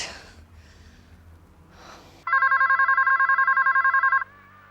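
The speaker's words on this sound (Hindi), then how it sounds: "मुझे पता था ये आप ही का फोन है" A telephone rings loudly in a rapid electronic trill for about two seconds after some quiet breathing and rustling.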